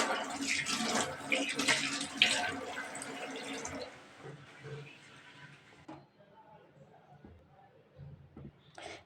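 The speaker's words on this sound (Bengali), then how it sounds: "এখন আপনাদেরকে ধুয়ে দেখাবো।" Running water from a tap splashes over two boti blades as they are washed, a loud steady rush for about four seconds that then gives way to softer drips and trickles, with someone speaking at times.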